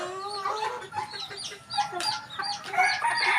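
Young Sweater Gilmore gamefowl stags cluck and call close by, with a string of short, overlapping throaty notes and bursts of half-formed crowing.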